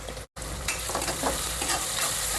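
Onions with salt and turmeric fry in a pan for pepper chicken, a dense, loud, close sizzle with a brief dropout near the start and steady stirring scrapes throughout.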